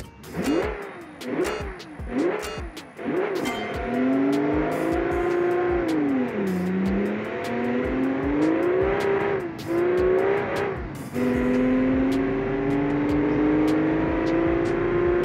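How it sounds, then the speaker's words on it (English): A massive 1970 muscle car engine roars loud and close, blipping the throttle in a few sharp revs before settling into long low-rpm pulls that rise and fall, with clicking gear changes and no talking. "It's powerful, it's very torquey, but the RPM is very low because this is a massive engine."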